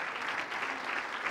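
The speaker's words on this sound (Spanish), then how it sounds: "Fuerte para Cristo el aplauso" Church congregation applauding to welcome a visiting evangelist, a steady, dense wash of clapping held at an even level through a short moment with no voices heard.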